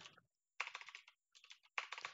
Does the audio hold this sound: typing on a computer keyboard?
yes